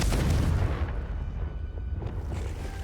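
The Confringo fire spell in Hogwarts Legacy goes off as a loud, close blast, a low rumbling boom that fades slowly over a few seconds.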